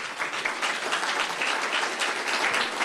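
A lecture audience gives a warm round of applause welcoming an author, loud, dense clapping from many people sustained evenly throughout.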